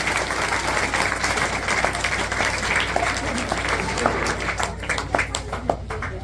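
A crowd at a government school event welcoming visitors applauds with sustained, dense clapping, fairly loud and continuous throughout, tapering slightly toward the end.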